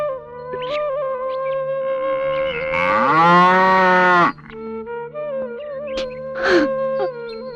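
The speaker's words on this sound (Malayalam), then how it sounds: "ജോസൂട്ടിയില്ലേ, കാളയെ കൊണ്ടുപോകാൻ ആള് വന്നു." A bull on a Kerala farm gives one loud, drawn-out moo of about a second and a half, standing alone among softer animal and background sounds with no talk.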